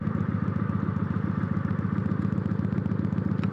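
A stock Kawasaki Vulcan 900 motorcycle rumbles steadily while being ridden, its engine producing a continuous throbbing drone with a fast pulsing beat, loud and close throughout.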